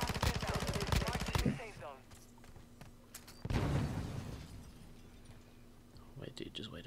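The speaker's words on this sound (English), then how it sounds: "Oh my god, I missed all my shots." Video game gunfire opens with a rapid, evenly spaced automatic burst of shots. Players then talk over quieter game sounds, with a few more scattered shots later.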